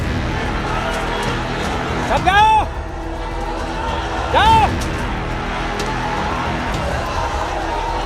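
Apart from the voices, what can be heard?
agitated crowd noise rising at a street clash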